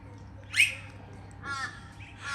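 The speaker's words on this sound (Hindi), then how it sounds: "और चिड़ियाँ भूखी ये आई हुई हैं, मैना साहिबा" Hungry mynah birds give a couple of sharp, harsh calls outdoors in damp, rainy weather, each call short and moderately near against a low steady background hum.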